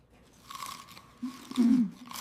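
Close, soft chewing of scrambled eggs at a breakfast table, a few moist bites and mouth movements rising toward the end, no talking.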